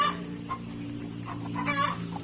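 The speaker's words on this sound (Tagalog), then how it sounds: "Ito na yung mga pabo natin." Several turkeys make short bursts of gobbling and clucking over a steady low hum, close by and moderately loud.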